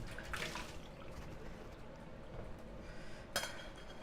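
Rice is rinsed in water in a kitchen, a faint, steady swish and trickle of liquid with a brief clink of a dish near the end.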